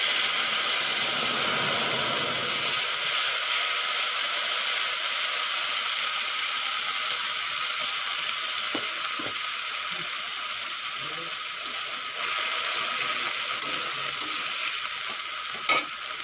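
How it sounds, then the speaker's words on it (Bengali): Tomato and ginger paste fries in hot oil with cumin, dried chillies and a bay leaf, a constant loud hissing sizzle with occasional light spatula scrapes and taps toward the end. "টমেটো আর আদা ভালো করে ভেজে নিয়েছি"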